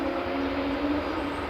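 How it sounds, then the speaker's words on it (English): An Air France Airbus A220 taxis at Edinburgh Airport with a steady, moderately distant engine drone and a faint whining tone. "A220 just taxiing along there."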